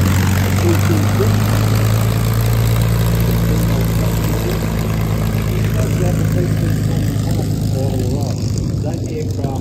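A propeller aircraft engine drones steadily and loudly at a warbirds air show, a continuous low hum that fades slightly near the end.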